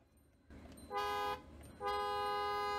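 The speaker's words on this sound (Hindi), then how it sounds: "काफ़ी पावरफुल हॉर्न है" Rolls Royce Cullinan car horn honking in two loud, steady blasts, the second longer, heard close with no talk over it.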